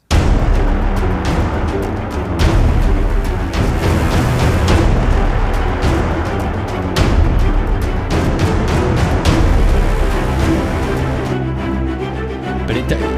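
Dense, dark layered violins and violas play continuously at full volume, a thick low-heavy orchestral texture without any voices.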